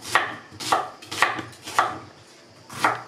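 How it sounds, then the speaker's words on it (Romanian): Onion being chopped with a knife, five evenly spaced, firm cuts landing on a board at a steady rhythm with a short pause before the last, close and clear with no talking. "între timp vom toca ceapa"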